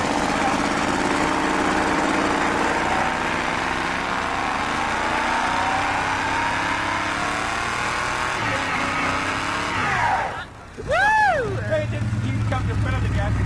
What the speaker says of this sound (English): You gotta do a burnout.